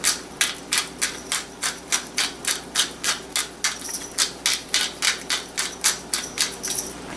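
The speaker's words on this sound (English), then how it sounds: "Grind in some black pepper." Pepper grinder cranked steadily over a dish of pasta puree with raw vegetables, about twenty crisp, evenly spaced ratcheting crunches, close and clear with no talking.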